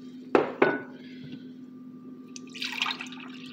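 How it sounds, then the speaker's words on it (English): Kool-Aid drink poured between containers: two sharp clinks of the containers knocking together up close, a quiet pause, then a short splashing pour of liquid near the end. "I won't stir, I'll just pour it back and forth."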